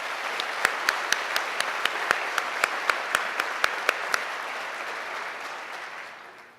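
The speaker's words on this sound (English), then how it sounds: "Can we give them another round of applause" Audience applause at a Black professionals gala in 2018, a dense steady wash of clapping from a large room with a few sharper nearby claps standing out, fading off toward the end.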